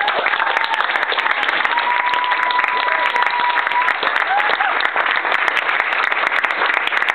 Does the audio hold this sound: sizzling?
no